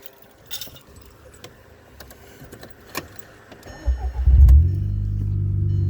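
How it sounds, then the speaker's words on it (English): A VW GTI Mk5 with a 2.0 K04 turbo engine, catalytic converter removed, idles faintly with light clicks, then revs hard near the end into a loud, sustained roar as the turbo spools. "hopefully you guys can hear the turbo spooling up here in a second"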